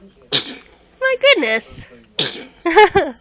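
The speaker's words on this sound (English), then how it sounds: "Oh, sneezies again." A baby sneezes twice in quick succession at close range, each a sharp burst, with an adult speaking softly between and after the sneezes.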